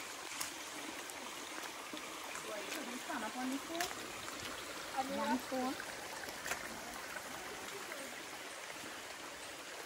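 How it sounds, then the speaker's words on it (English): A small stream trickles and gurgles along a hiking trail near a waterfall in the rain, a faint, steady watery babble with a few brighter splashes. "we're just crossing over a little stream here"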